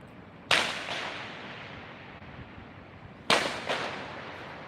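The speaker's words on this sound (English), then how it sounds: "right-hand side that are setting off little firecrackers. Not much to see, but they're loud." Small firecrackers set off by kids in a residential street on Chinese New Year's Eve in China: two sharp, loud cracks about three seconds apart, each trailing a brief echo against steady outdoor background noise.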